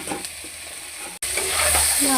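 Onion being stirred as it fries in oil in a pan for a Bengali vegetable and fish curry, a steady close sizzle with scraping stirs and a brief cut midway, no talking.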